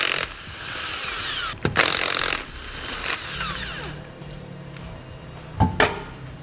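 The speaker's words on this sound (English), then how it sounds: "For that we use a 7/8 socket." Ratchet wrench with a 7/8 socket removing rear wheel hardware on a 2015 Buick Enclave, rapid clicking ratchet strokes with a couple of sharp metallic knocks, close and alone.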